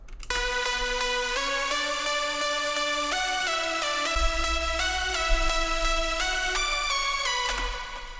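Sustained synth lead chords with no sidechain ducking, holding steady and continuous at even loudness, with shifting sustained notes over a low bass rumble and no pumping.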